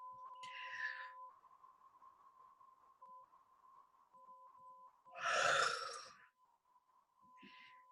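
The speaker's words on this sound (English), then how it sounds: "And then you can start yawning." A long, breathy yawn done as a relaxation practice swells loudly in the middle, framed by softer breaths and sighs over a faint, steady tone.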